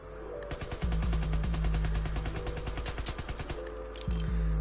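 Grease Gun submachine gun firing in Call of Duty WW2, a rapid sustained automatic burst of close, loud shots, with a second burst starting near the end.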